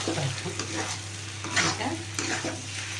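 Fried potatoes and eggs sizzle in a pan with steady crackling frying noise close by, broken by repeated scraping stirs of a spatula.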